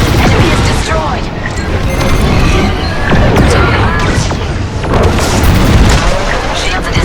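A destroyed enemy starship explodes in the Star Wars: Squadrons space-combat game, a loud booming blast with rumbling crashes and debris that stays dense and heavy the whole time, while voices talk over it.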